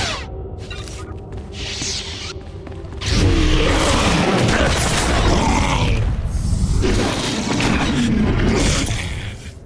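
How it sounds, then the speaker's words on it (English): A generator explodes in Star Wars: The Old Republic, a sudden loud roaring blast that cuts in after a few seconds of quieter mechanical noise and then rumbles on heavily for several seconds. "Destroy ourselves a generator"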